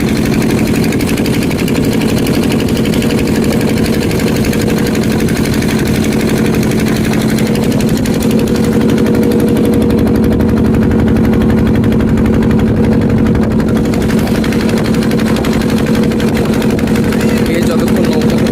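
A boat engine drones steadily and loudly throughout a crossing of the Ganga river, a continuous low mechanical hum with rapid vibration and no pauses.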